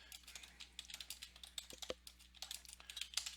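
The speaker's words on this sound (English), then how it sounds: "I'm going to type that in." Rapid, uneven clatter of keys on a computer keyboard, close and fairly quiet, with short pauses between bursts of typing and no talking.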